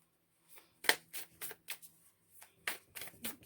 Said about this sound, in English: I think I'm going to pull more cards on this.